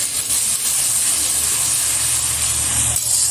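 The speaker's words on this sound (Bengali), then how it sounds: "এবার খুব ভালোভাবে এটা কষিয়ে নিচ্ছি" Ginger, garlic, chilli and cumin masala paste frying in a pan for a Bengali egg curry, a loud, close, steady hiss and sizzle lasting the whole few seconds, no voices.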